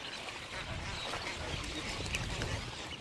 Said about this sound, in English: a chorus of chattering and chirping birds, all protecting their chicks and hunting for food